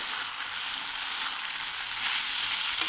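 Cauliflower Manchurian stirred in a pan, a continuous bright sizzle of frying with a faint scrape near the end, no voices.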